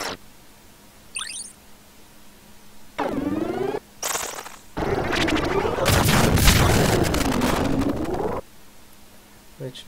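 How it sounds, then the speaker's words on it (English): Several loud blasts and gunfire bursts in the game Final Fantasy Tactics, one long rumbling stretch with a wavering tone, separated by quieter gaps. "There's a gunshot."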